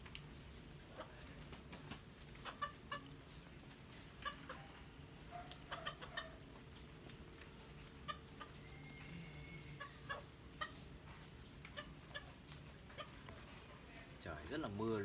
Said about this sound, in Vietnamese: Xung quanh mình đang có mấy con gà anh em.